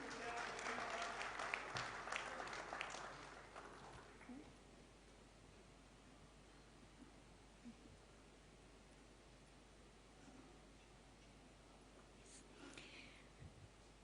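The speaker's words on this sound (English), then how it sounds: "Let's again have a huge round of applause for them." An audience at a steel industry conclave claps loudly for a few seconds. The applause then tapers off into a quiet room hum with faint shuffles and a few small noises.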